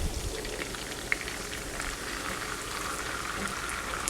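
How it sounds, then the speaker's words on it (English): Prosecco pours into a hot pan of lobster cream sauce, raising a steady, close hissing sizzle with a dense crackle that stays even for several seconds and has no talk over it. "In goes the Prosecco."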